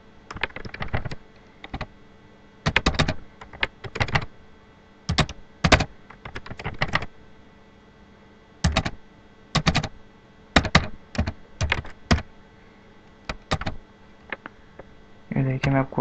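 Irregular clusters of keystrokes on a computer keyboard while HTML list items are typed, near and crisp, with short pauses between bursts and no talk.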